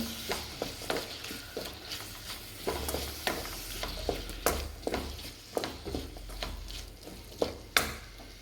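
Ground cumin and coriander masala powder being mixed and fried in a pan for egg gravy, a spoon scraping and tapping in steady repeated strokes over a faint sizzle, close by and fairly quiet.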